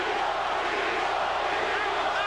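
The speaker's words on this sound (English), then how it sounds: "Crowd chanting, Tito," Boxing crowd at the 1999 Felix Trinidad versus Oscar De La Hoya fight chanting "Tito" in unison, a dense, steady roar of many voices filling the arena throughout.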